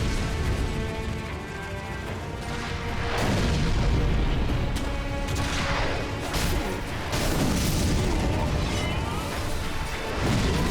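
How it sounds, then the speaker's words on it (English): Rocket fire in the Sekiro: Shadows Die Twice video game, heard as repeated loud booming blasts and whooshing impacts over a dense rumbling background, with brief speech-like sounds. "These guys are still shooting rockets at me."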